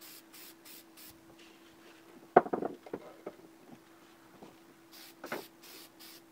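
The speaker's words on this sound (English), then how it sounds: "never stop moving the can and give it spurts, spray spurts" A can of spray paint hisses in short, separate spurts, with quiet taps and handling noises between the bursts, heard close and alone.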